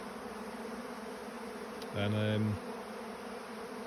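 Honey bees feed on leftover wax in used honey-straining filters, a brief loud buzz of one bee flying close past for half a second over a steady faint hum of others.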